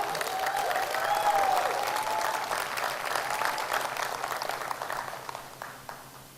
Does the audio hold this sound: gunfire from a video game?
no